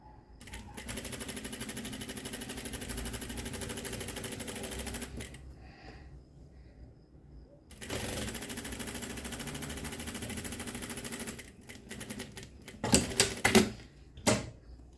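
Sewing machine stitching the side seam of tailored shorts, running in long steady bursts with a pause between, then a few short stop-start runs near the end.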